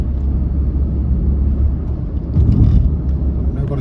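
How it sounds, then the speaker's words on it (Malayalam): A car accelerates to overtake on the Mandya bypass, a steady low engine and road rumble from inside that swells slightly as the car speeds up. "നമുക്ക് ഈ വണ്ടീനെ ഓവർടേക്ക് ചെയ്യണം"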